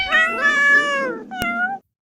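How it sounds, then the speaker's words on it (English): A cat lets out a long, loud, drawn-out meow followed by a shorter second one, close and clear, with a brief tap between them. "Or 12 cats stuck in a tree."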